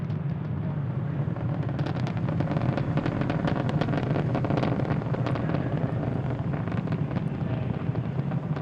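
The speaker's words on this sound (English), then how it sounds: "we just throttled down the 9 Merlin 1D engines in preparation for the next event" SpaceX Falcon 9 rocket with nine Merlin 1D engines throttled down during ascent near max Q, heard as a continuous distant rumbling roar with crackling texture, steady and broad with no voices.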